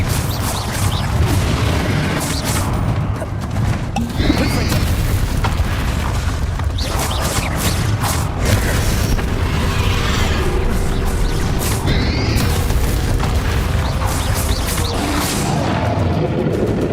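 Repeated Bombarda spell blasts in Hogwarts Legacy, a dense run of booming, crashing explosions under the continuous clamour of battle, loud and close from start to finish.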